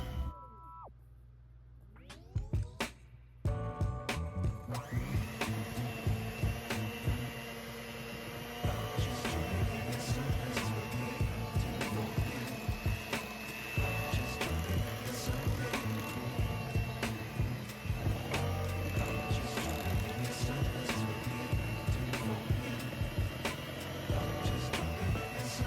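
A mixer beats flour into red velvet cookie dough, its motor starting after a few quiet seconds and then whirring steadily with a constant tone and rapid rhythmic clatter throughout.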